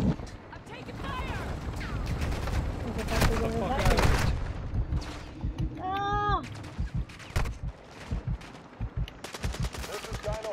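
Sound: gunfire in the video game Call of Duty (Al Mazrah)

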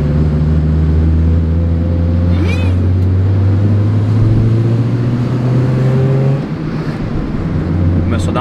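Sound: car engine misfiring while driving

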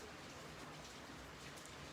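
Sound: rain falling

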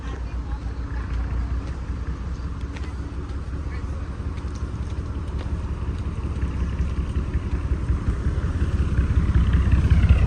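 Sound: car reversing in

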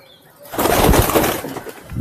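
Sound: pigeon cooing

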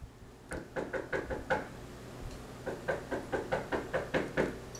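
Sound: knocking on a door

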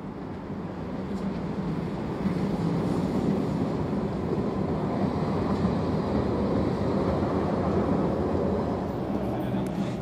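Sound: Vienna U4 underground train rolling

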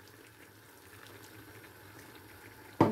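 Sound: water added to simmering banana pepper curry

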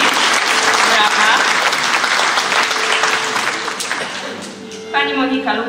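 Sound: audience applause for a candidate

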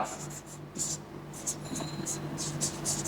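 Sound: pen writing on paper

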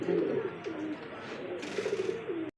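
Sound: red female Danish pigeon cooing

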